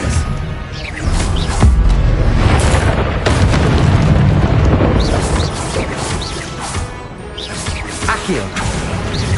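Spell effects from the game Hogwarts Legacy: loud, dense booming and crashing blasts run continuously through the stretch, with sharp whacks and bursts cutting through and a voice faintly underneath.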